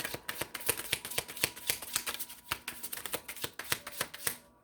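Tarot cards shuffled and drawn in a quick run of crisp riffling snaps and clicks, close up and fairly quiet, with no talk.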